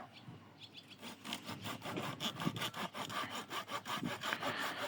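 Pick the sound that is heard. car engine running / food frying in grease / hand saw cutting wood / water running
hand saw cutting wood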